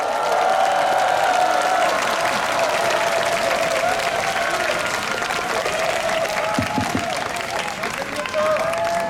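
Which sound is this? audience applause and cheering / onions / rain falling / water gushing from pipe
audience applause and cheering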